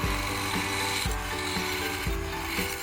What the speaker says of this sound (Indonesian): Tahap selanjutnya kita potong mengikuti pola menggunakan mesin benzo